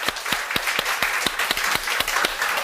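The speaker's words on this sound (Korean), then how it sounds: "찬양 받으신 하나님께 감사의 박수 올리겠습니다" Congregation applause in a church service, a dense steady wash of many hands clapping close by with sharp individual claps standing out throughout, no voices.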